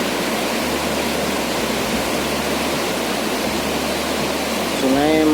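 Swift, flood-swollen Marmoyo river after heavy upstream rain: a loud, steady, broadband roar of rushing water, continuous throughout, with a brief voice at the very end.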